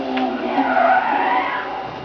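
A car in the Need for Speed Undercover video game skids loudly through a reverse 180, its tyres screeching in one sustained, sweeping squeal with engine noise underneath.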